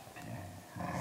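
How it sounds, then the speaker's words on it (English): A dog growls in a low, continuous rumble, quiet and steady throughout, with a slight swell near the end. "Stop growling, sit."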